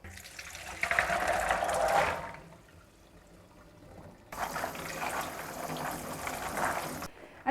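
Water pours out as soaked, rehydrated lupini beans are drained in a kitchen. A steady splashing rush runs for about two seconds, stops after a brief quiet, then a second longer pour follows at close range with no talk.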